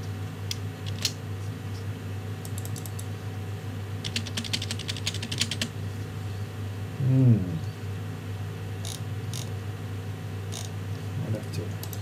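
Clicking keystrokes on a computer keyboard come in short scattered bursts over a steady fan hum, with a brief low sound in the middle and no clear speech.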